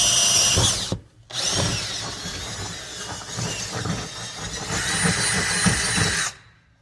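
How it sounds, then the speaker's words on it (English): A power drill whines loudly and steadily while drilling holes for a mirror bracket on a Peterbilt 379 truck, stops briefly after a second, then runs on in a long continuous burst before cutting off. "we'll get the rest of these drilled out"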